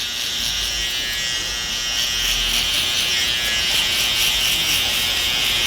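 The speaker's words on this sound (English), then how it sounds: "estamos pasándole el trimmer en la parte aquí de atrás" An electric hair trimmer buzzes continuously, close and fairly loud, as it cuts hair at the back of the head during a fade haircut.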